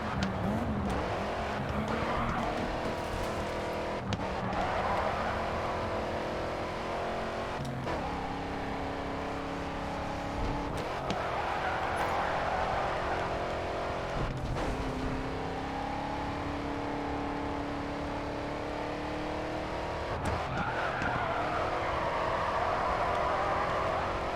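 Race cars in the Grid 2 video game, engines revving hard through gear changes with repeated rising and falling pitch sweeps, tire squeal and skidding, loud and continuous throughout.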